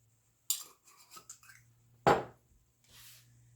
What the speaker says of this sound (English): You just want to stir it up a little bit.